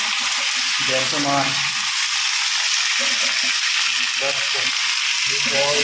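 Potatoes fry with whole cumin in hot oil in a pan, giving a loud, steady sizzle throughout, with a voice talking in intermittent bursts over it.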